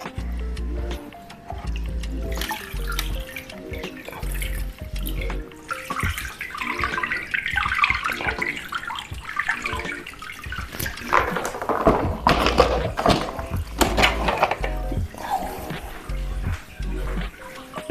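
Water runs and splashes continuously while an aquarium root is cleaned under it, with bursts of pouring and gurgling, some knocks and a low rhythmic thump underneath.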